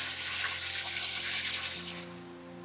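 Tap water gushes steadily into a bucket for watering a living-soil grow bed, a broad hissing splash that holds loud and close, then softens slightly near the end as the fill changes.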